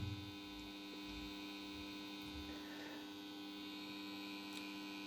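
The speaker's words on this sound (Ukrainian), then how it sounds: "І насос працює, але із характерним шумом." A Grundfos circulation pump runs with its characteristic noise, a faint, constant electrical hum with steady tonal whine and no variation, heard alone and close.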